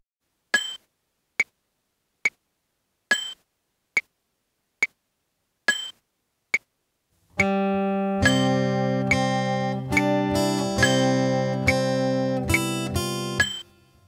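A left-handed acoustic guitar picks Away in a Manger, opening with a steady count of sharp clicks before the plucked melody enters with ringing chords, clear and close.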